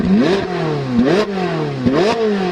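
A 2019 Ferrari F8's 720-horsepower V8, which revs to 8,000 RPM, climbs and drops in pitch three times, loud and close, with a brief gap before each new rise.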